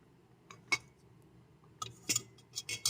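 Metal food stand set upside down in a wok, a few sharp metallic clinks and knocks scattered over a quiet background, close, with no talk.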